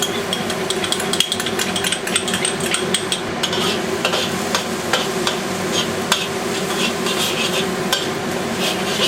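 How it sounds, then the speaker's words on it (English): Garlic sizzles steadily in vegetable oil in a wok for a chicken stir fry, with a continuous frying hiss and frequent scraping taps from a utensil as it is stirred. "Just want to get nice and sauteed. This garlic, I like it very light and brown."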